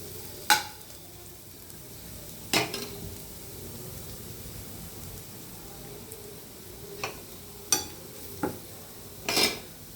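Drumstick leaves frying in a pan, a low steady sizzle broken by several sharp metallic clinks of a spatula against the pan at irregular intervals, close by with no speech.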